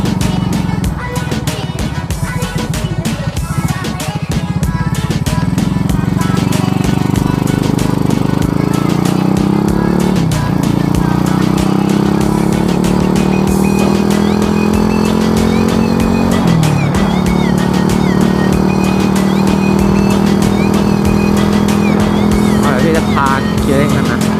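A 125cc motorcycle ridden on a road while overtaking, its engine droning loud and close with rising and falling revs and shifting pitch, steady wind and road noise throughout, without clear speech.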